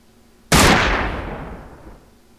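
A single sharp gunshot in the Brigade E5 sniper training range, striking suddenly and loud, then a long rumbling decay that fades out over about a second and a half.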